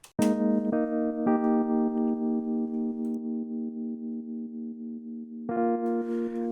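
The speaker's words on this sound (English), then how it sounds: "Let's listen to this piano right here" A dry, sustained piano-like tone rings with a few repeated notes, clean and close with no echo tail, then a brighter chord near the end.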